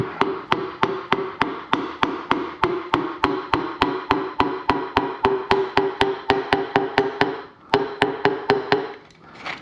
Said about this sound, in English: just with a hammer here